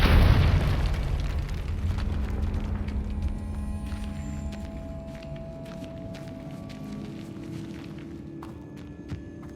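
A Confringo blasting spell goes off in Hogwarts Legacy as a loud, close explosive boom. Its rumble fades over several seconds into crackling debris, faint tinkling and a few small pops.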